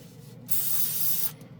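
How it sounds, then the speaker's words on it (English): A steady, hissing burst of airbrush spray starts abruptly, holds for under a second, then cuts off, with a low background hum before and after. "when you're spraying it clear"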